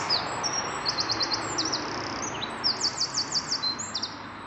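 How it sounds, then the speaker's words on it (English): Woodland birdsong along the John Muir Way between Carbeth and Kirkintilloch: repeated high, bright chirping phrases from nearby birds over a soft background hush. "I've stopped just for the moment to showcase this woodland and the birdsong."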